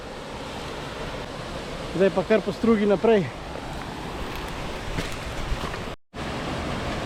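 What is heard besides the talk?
waterfall on Mrzli potok creek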